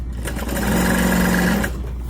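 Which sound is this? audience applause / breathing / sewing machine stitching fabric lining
sewing machine stitching fabric lining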